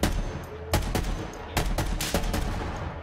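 Sniper rifle fitted with an underbarrel shotgun firing in Borderlands 3: several loud, sharp shots in a broken rhythm, each with a booming tail over steady game background noise.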